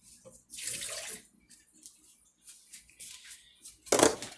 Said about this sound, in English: I got to drain a little water off though, or I'll be splashing it everywhere.